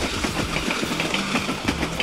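Trains rumble past each other as a sound effect, a loud, steady rolling clatter with rhythmic clickety-clack of wheels over rail joints and no voices.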